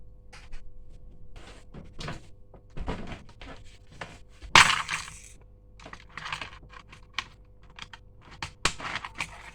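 Keys on a spring-loaded fidget keyboard toy click and clack close up in irregular bursts, with a few sharper, louder snaps among softer taps and no talking.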